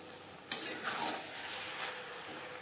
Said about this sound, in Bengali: একইভাবে মশলার সাথে আলু বেশ ভালো করে মিক্সড করে দেবো হাই টু মিডিয়াম ফ্লেমে তিন চার মিনিট রান্না করবো